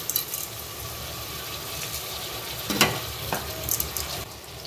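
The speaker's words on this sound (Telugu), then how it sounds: "సరే బ్యాళ్ళు బియ్యము వేసి కలుపుదామండి." Rice and lentils being stirred into a pot in a village kitchen, a steady wet sizzling and bubbling with soft scraping and a few clinks of a spoon, close and moderately loud, no talk.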